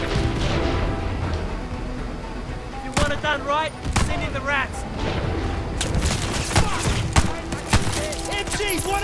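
Gunfire in Call of Duty Vanguard, with a rapid succession of sharp shots and booms mixed with clattering impacts, loud and close, while a voice talks over parts of it.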